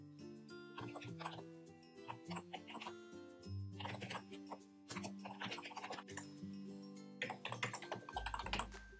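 An email address is typed on a computer keyboard in quiet bursts of soft key taps, faint under steady tonal background music.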